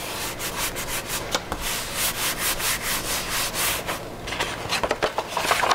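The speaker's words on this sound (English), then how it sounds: "sandwich it between two pieces of white construction paper and just rub on it really hard" Steady hard rubbing on white construction paper pressed over a paint-soaked coffee filter, a continuous scratchy swish in rhythmic strokes, close and alone, growing choppier near the end.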